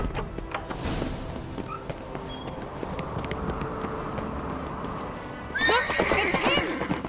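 In The Witcher 3, a horse trots with a rhythmic clip-clop of hooves before letting out a loud, shrill whinny near the end, with game sounds in the background.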